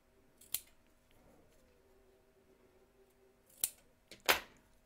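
Scissors snip off the corner of sewn fabric on a bag, a few sharp, quick close cuts separated by quiet pauses, the last two clustered together.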